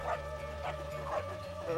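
A dog in the video game LittleBigPlanet gives a few short, close barks in a quick sequence over steady game music.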